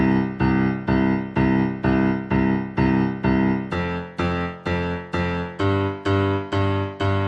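A steady left-hand piano bass pattern repeats in even rhythmic chords, a shuffling 12-bar blues groove played clearly and alone, shifting to a lower position halfway through.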